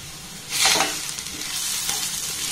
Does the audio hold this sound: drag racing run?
no